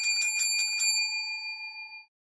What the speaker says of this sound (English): We get to ring the bell.